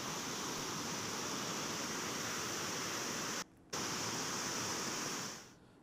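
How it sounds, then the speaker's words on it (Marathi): Floodwater pours through the thirteen opened gates of Isapur dam in Yavatmal district with a dense, steady roar of rushing water. A brief break interrupts it before it fades out at the end. "इसापूर धरणाचे तब्बल 13 दरवाजे हे उघडण्यात आलेले आहेत।"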